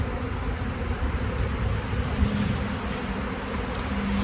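Honeybee colony during a hive frame inspection, a steady low droning hum of many bees close by, continuous and even throughout with no talking.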